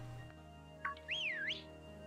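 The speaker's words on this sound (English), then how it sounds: "I remembered how to whistle." A person whistles one brief swooping note that rises, dips and lifts again, clear and close over a steady low hum during Pokemon Sword play.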